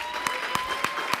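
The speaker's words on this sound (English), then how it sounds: "hope you can join me in a big round of applause for Katie Tubman," Audience applause at a library event on graphic Black histories and comics, a steady dense patter of clapping with a few sharper claps punctuating it at regular intervals.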